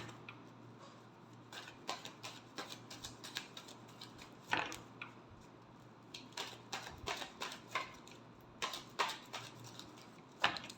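Tarot cards shuffled by hand during a reading, a quiet, close run of crisp irregular riffling clicks and flutters in short bursts separated by brief pauses.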